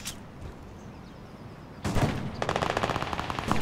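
Rapid bursts of automatic gunfire in a video game break out after a quiet stretch, loud and sustained, with sharp repeated shots rattling on.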